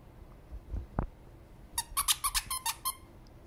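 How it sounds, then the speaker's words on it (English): A squirrel-shaped squeaky dog toy squeaked in a quick run of about eight sharp, high squeaks close by, after a couple of soft thumps, with a German Shepherd nearby. "Squeak the squirrel. Give it a good squeak for everybody."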